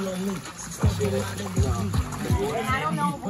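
Water splashes in repeated bursts, sloshing and spattering nearby while voices talk over it, on a music video set.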